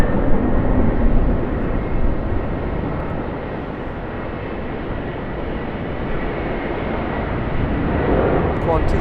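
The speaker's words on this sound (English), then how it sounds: "Qantas Airbus A330-200." Qantas Airbus A330-200 airliner at Sydney Airport, a steady broadband engine roar held close and loud for the whole stretch, with a slight swell near the start and no break.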